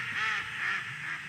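Ducks, drakes among them, chatter and quack together on the water in a steady, fairly distant flock murmur without any talking.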